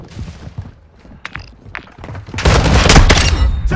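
Gunfire in Call of Duty: Modern Warfare II, a few scattered shots and thumps followed by a loud sustained burst of automatic fire in the last second and a half.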